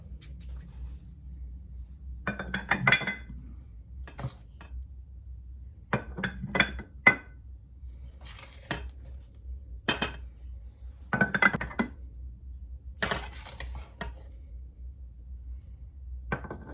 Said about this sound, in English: We've got our big jars here. We're just going to scoop that in there.